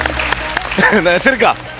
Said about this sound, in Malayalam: നല്ലൊരു ഉഗ്രൻ കൈയടി അച്ഛന്.